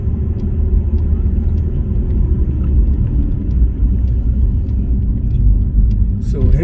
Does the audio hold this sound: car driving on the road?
yes